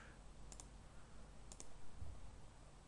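Two crisp computer mouse clicks, about a second apart, each a quick double tick, over a steady low hum in a quiet room.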